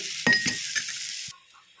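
Spices frying in a pan, a short burst of sizzle with a few spatula scrapes and stirs, ending abruptly.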